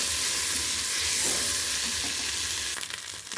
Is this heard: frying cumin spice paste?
yes